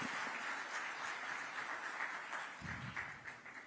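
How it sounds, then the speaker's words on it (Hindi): Faint, steady applause from an audience welcoming the Chief Minister at a public event, a dense crackling wash that holds evenly throughout with no voices over it. "आप सभी से निवेदन करता हूं कि जोरदार तालियों के साथ एक बार माननीय मुख्यमंत्री महोदय का आप स्वागत करें"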